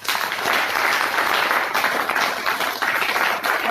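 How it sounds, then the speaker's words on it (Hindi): Loud, dense applause from a seminar audience answering a presenter's call for a big round of clapping, steady and sustained throughout with no pause. "मेरा प्लान आपको कितना समझ में आया ये आपकी जोरदार तालियां बताइए।"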